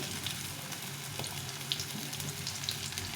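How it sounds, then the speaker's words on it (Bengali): Cabbage pakoras fry in a little fish oil, a dense, even crackling sizzle heard close up with faint clicks, and no talk. "এই চারটে চারটে করে ভাজছি এটা ডুবু তেলে ভাজা যাবে না অল্প তেলে ভাজতে হবে"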